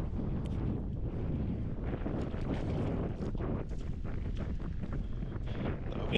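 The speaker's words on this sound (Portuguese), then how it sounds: "Ventando um pouquinho, mas mesmo assim dá pra gente contemplar bem." Steady wind gusting across an open shoreline by a seaside lagoon at Arraial do Cabo, a broad continuous rush with buffeting on the microphone and no voices.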